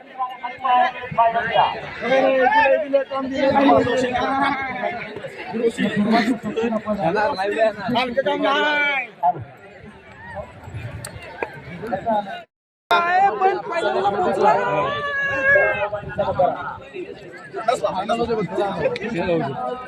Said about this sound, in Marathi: तुफान गर्दी आहे.